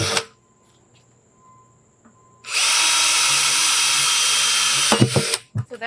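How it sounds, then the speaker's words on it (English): A power drill whirs loudly and steadily for a few seconds after a quiet pause, drilling holes in a wine barrel, then stops with a couple of short bursts and clicks. "I'm going to just drill some more holes"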